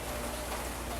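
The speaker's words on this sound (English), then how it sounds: "It's raining right now and it's really nice." Rain falls outside in a soft, steady hiss with no pauses, even and unbroken through the short moment, with no voices.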